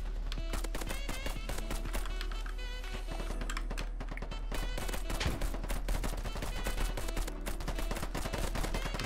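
Dense, continuous gunfire from a gun in the shooter game Polygon, with rapid shots rattling steadily for the whole stretch under a low rumble, fairly quiet in level.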